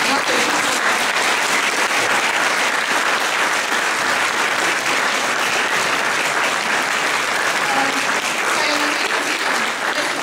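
Dense, steady applause from a large audience at a school graduation ceremony fills the whole stretch, loud and sustained without a break.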